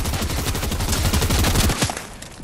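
A video game shotgun fires in a rapid cluster of loud, punchy blasts that overlap into a dense volley, then the sound cuts off and fades.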